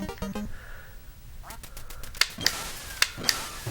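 Ducks from the NES game Duck Hunt quack in a short burst of sharp, nasal electronic calls. Game sound effects and a few crisp clicks follow, all loud and close, with no talking.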